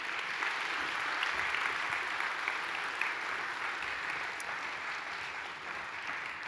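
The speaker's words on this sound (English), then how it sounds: "Can we give just a round of applause for that?" A school concert audience at a high school choral spring concert claps in sustained applause, an even wash of hand claps that stays steady and then eases slightly toward the end.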